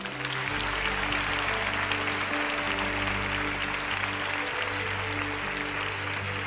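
Congregation applauding during a church service, a continuous spread of clapping set against sustained low organ or keyboard tones that ring underneath the whole time.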